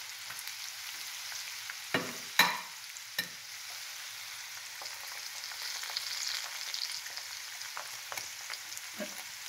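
Egg sizzles in a hot pan for scrambled eggs, a soft steady frying hiss broken by a few sharp clicks and scrapes of stirring, close and quiet with no talking.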